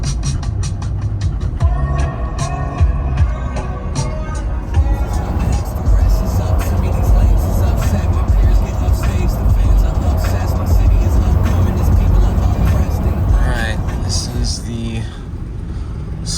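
A vehicle rolls past on a gravel road, a loud continuous engine rumble and tyre noise building and fading, heard from inside a truck with people talking over it.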